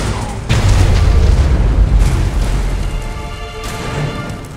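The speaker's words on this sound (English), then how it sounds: "Nuclear weapon launched." Huge nuclear weapon blast in the mobile strategy game Command and Conquer Rivals: a sudden deep boom that swells into a long, loud rumbling roar, slowly fading but sustained for several seconds, with no talk.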